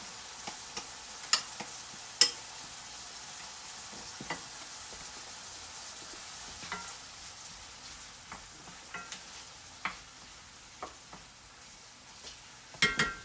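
Pineapple chicken sauce with soy sauce warms in a pan, giving a quiet low sizzle broken by scattered scrapes and taps of a utensil stirring, with no voices.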